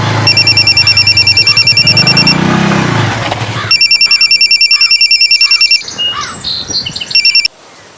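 A telephone rings loudly with a rapid, bell-like trill in two long bursts separated by a short gap, then a shorter third burst amid other clatter.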